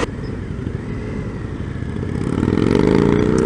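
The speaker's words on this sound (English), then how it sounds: "you can hear it sucking air and hear it flying out the exhaust" An Indian FTR 1200 motorcycle with an aftermarket intake, its engine running near and loud, intake suction and exhaust note rising steadily as it revs up over a few seconds.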